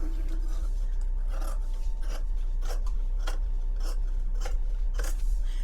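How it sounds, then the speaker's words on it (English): Scissors snip through the fabric lining at the bottom of a sewn bag, a run of about nine crisp, evenly spaced cuts close by with a low hum behind them. "I want to trim off my lining at the bottom."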